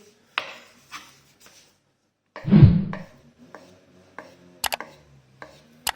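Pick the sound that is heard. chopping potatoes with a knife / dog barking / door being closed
chopping potatoes with a knife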